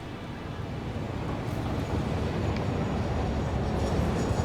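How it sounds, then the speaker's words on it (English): Train rolling in on rails in the factory-building game Satisfactory, a dense, steady rumbling roar with mechanical rattle, loud and close throughout, without speech. "Here comes the train."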